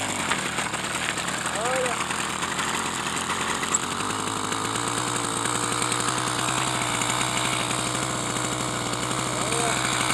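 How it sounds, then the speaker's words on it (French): An 80cc motorized bicycle engine catches and settles into a loud, steady buzzing run, its rapid two-stroke putter constant throughout while someone briefly speaks over it. "Vous avez votre moteur qui a démarré."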